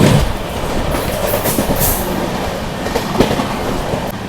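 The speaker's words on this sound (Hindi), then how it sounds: "अभी आपने दोस्तों त्रिवेणी एक्सप्रेस का ओवरटेक देखा मिर्जापुर में" An Indian train overtaking the Triveni Express near Mirzapur, heard as a steady rail roar with rhythmic wheel clatter and brief squeals, loud and close throughout with no talking.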